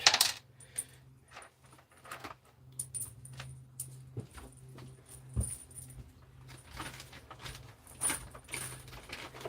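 Small self-tapping screws and metal hardware rattle and clink as they are shaken out of a plastic package, a run of light, irregular jingles and taps close by with no talking.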